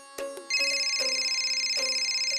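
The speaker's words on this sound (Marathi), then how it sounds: "फोन आला, काय माहिती कोणाचा फोन आलाय." A telephone ringing indoors, a steady electronic ringtone warbling continuously after a couple of brief knocks, fairly clear with no talk over it.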